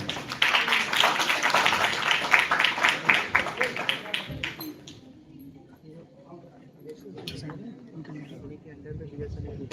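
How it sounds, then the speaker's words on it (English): An audience claps for a chief guest at an education event, a brisk burst of applause lasting about four seconds that quickly dies away, followed by quiet room noise with some talking. "A huge clap for Ajay Kumar Shukla, sir."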